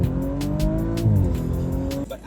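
A 2019 Audi RS 5 Sportback engine revs loudly nearby, its pitch rising and falling as it accelerates, with no talking over it.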